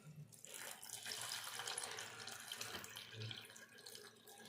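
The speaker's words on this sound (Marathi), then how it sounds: "मी छान धुवून घेते ही भाजी" Water runs steadily from a tap over young chickpea leaves being rinsed, a continuous splashing hiss with soft shifting gurgles as the greens are moved under the stream.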